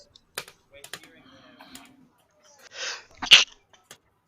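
A single short human sneeze, close and fairly loud, follows scattered quiet clicks that sound like computer keyboard typing in a quiet room.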